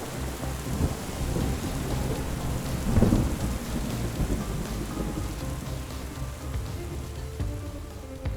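Steady rain pours by the Cooks River during a thunderstorm, with a deep rumble of thunder swelling around the middle over constant hissing rainfall.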